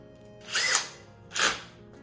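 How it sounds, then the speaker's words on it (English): A power drill fitted with a chamfer bit cutting in two short, loud whirring bursts separated by a brief pause. "So let's see what the chamfer bit can do."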